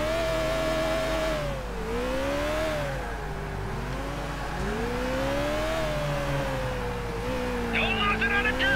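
A car engine in Grand Theft Auto IV drones continuously, its pitch swelling and dipping as the vehicle speeds up and eases off, with steady road noise underneath.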